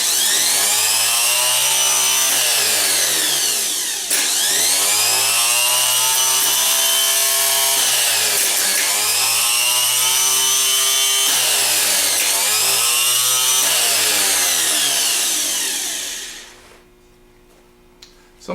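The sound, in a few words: rebuilt 10MT starter motor running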